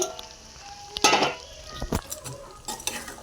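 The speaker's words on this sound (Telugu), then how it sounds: "తర్వాత అందులో మనం వేయించుకున్న చికెన్ వేసుకోవాలి" Fried chicken tipped into a pan of chicken pickle masala and mixed in, heard as clattering spoon and metal pan scrapes in uneven bursts over a low sizzle, with no voices.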